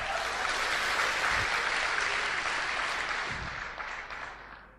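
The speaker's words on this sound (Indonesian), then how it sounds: "Mohon aplaus buat Ibu Linda bintang 8." An audience claps together in steady applause at a seminar-style gathering, loud and sustained before tapering off near the end.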